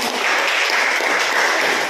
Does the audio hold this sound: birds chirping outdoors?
no